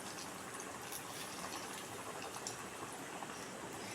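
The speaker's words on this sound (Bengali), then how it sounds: "এবার আমি কাটলেটগুলো এভাবে দিয়ে ভেজে নেব।" Fish cutlets fry in hot oil over medium heat, giving a dense, steady, close sizzling hiss that holds throughout with no talking.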